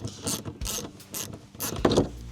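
Ratchet driving a 7mm socket on the fender well cover bolts of a 2024–2026 Ford F-150, giving several short bursts of close, buzzy ratcheting clicks with brief pauses between them.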